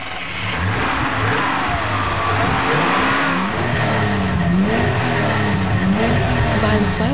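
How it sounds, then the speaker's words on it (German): A BMW CSL fitted with an Alpina 200 hp carbureted inline six, with ported heads and a sport exhaust, revs hard and steadily nearby, its gruff engine note rising and falling throughout. "Noch kerniger klingt der Alpina 6-Zylinder."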